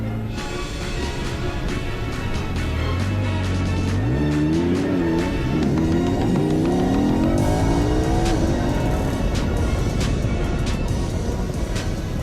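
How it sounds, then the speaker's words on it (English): An Audi R8 sports car engine, 600 horsepower, revs up and accelerates, its pitch climbing in smooth sweeps before settling into a loud, steady roar with road noise. "The Audi R8 is a monster. It's 600 horsepower."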